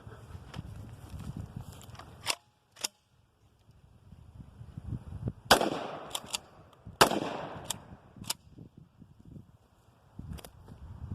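Gunshots fired at a target ring out as separate sharp cracks, about five or six spread unevenly over several seconds with quiet gaps between them. A couple land close together, over a low, soft background.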